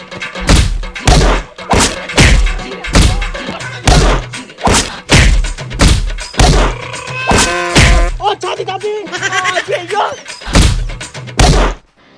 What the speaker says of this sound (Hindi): मारो सालों को।